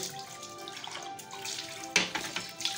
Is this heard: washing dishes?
yes